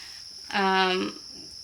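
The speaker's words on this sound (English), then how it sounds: "the cicadas have something to say, like an alarm" Buzzing cicada call, a single steady harmonic drone lasting about half a second, loud and close over faint background hiss.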